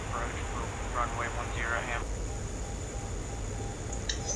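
A Jaguar jet aircraft in a video game drones steadily on final approach to a runway, a constant engine hum under a man's radio-style talk.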